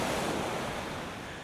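Sea waves break and wash continuously onto the beach at Sea Palling, Norfolk, a loud, steady roar of surf mixed with wind buffeting the microphone, heard alone without any voices.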